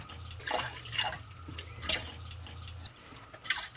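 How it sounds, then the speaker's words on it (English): Water pumped by a foot pump from a van's tank runs into a pasta pot, coming in uneven splashing bursts with a low pump hum beneath. "So I'm using the foot pump here and filling it from our water tank"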